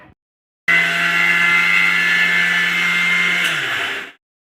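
A mixer grinder grinds Balamrutham flour for a sponge cake, starting abruptly with a loud, steady high-pitched whir that holds for several seconds before winding down and cutting off.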